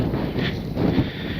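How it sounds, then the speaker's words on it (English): Strong wind buffeting a microphone outdoors at a remote camping spot, a steady low rumble that swells and gusts throughout with no talk over it. "It is so windy right now."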